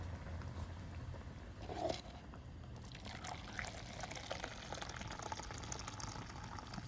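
Water poured from a jug into a paella pan, a soft steady trickle and splash over a low background hiss, faint and continuous with no talking.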